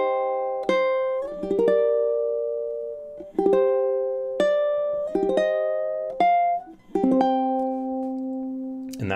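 Ukulele chord melody of the Japanese folk tune Sakura, measures 16 to 18: a slow sequence of plucked and strummed chords, each ringing and decaying before the next, played alone with no voice.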